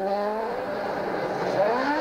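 A WRC rally car races at Rally Finland 2021, its engine rising and falling as it revs, moderately loud and distant, heard alone.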